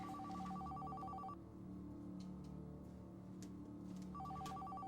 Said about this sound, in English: Would you answer that phone?